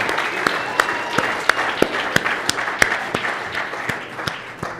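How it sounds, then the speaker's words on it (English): Applause for athletes Sydney, Akira and Danielle at a Grand Slam Track Philly press conference: a modest room's worth of clapping, steady and moderately close, with sharper individual claps standing out over a dense patter. "can we give a massive round of applause to Sydney, to Akira, and to Danielle?"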